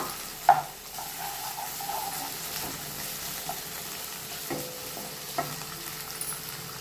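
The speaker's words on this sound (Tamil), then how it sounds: "எல்லாத்தையும் கொஞ்சம் வதக்கணும்" Tomato, green chilli and ginger-garlic paste sauté in a pan with a soft, steady sizzle throughout, punctuated by a sharp clink near the start and a few light stirring knocks.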